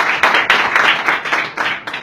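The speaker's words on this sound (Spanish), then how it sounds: "Dale un fuerte aplauso al Señor." A church congregation claps loudly in praise of the Lord, fast irregular hand claps in bursts that swell and pause across two seconds, close and dense with no talking.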